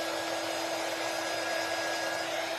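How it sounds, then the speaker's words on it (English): A hand-held dryer blows over freshly printed glow-in-the-dark ink, a steady close whoosh with a high motor whine, unbroken throughout. "let's hit this with the dryer really quickly."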